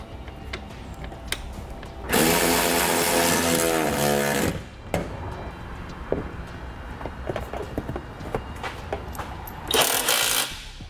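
While a 2016 Chevrolet truck fascia is being reinstalled, a power tool drives fasteners in two loud bursts, one long whirring run and one shorter one, with clicks and handling clatter between.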